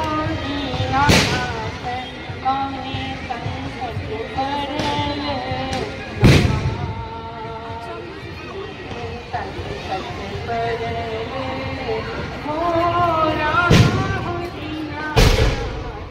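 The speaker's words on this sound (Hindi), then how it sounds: "चालू है आतिशबाजी हम लोग का।" Firecrackers bang sharply several times at irregular intervals, loud and close, at a Chhath Puja morning gathering, while people talk and chatter continuously in the background.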